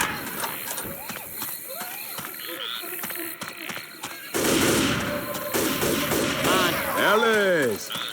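Dense video game gunfire from Left 4 Dead 2, rapid bursts of automatic shots mixed with mechanical clicks and in-game voices, growing into a loud sustained barrage.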